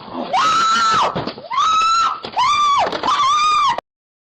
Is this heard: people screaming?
yes